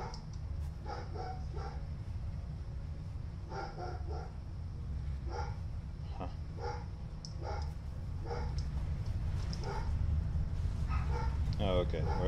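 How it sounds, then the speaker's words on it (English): Dog barking in the background of a home recording during Satisfactory gameplay, several scattered short barks and yips at a distance under ongoing talk, over a steady low hum. "Don't mind the dog in the background."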